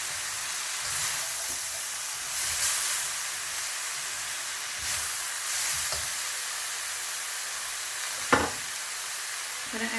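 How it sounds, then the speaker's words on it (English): Chicken chow mein stir-fried in a pan with dark soy sauce and red chili flakes, a continuous hissing sizzle with surges as the food is tossed and a sharp clank of utensil on pan near the end. "Now we have to stir fry this for 2 to 3 minutes."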